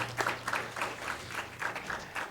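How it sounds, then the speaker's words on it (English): Faint applause from an audience at a ceremony for a medical equipment donation to the Namibian government, heard as soft, uneven bursts of clapping at some distance. "Let's give her a round of applause."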